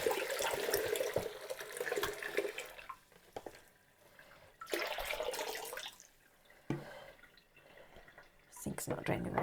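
Dye water from lace dyeing draining in a sink, a running, gurgling flow that rises and fades in waves with drips, while people talk over it.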